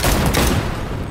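Pistol gunfire in Cyberpunk 2077: a loud, dense burst of rapid shots fills a short moment, then fades with a rumbling tail.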